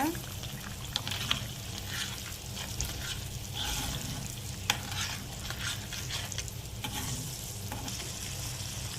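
Steady sizzling and frying of onion chutney paste in a pan with scraping stirring strokes, close and continuous, with faint background voices.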